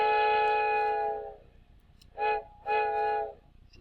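A locomotive on a Minecraft Railcraft mod track sounds a loud, steady harmonic horn-like tone, followed after a pause by two shorter blasts.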